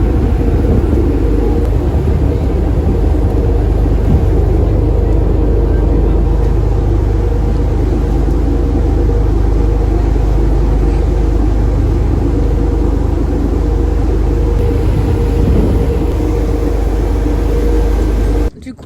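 A steady low engine rumble drones throughout, like a boat on a 15-minute ferry crossing in Brittany, with a constant hum and no pauses until it cuts off at the end.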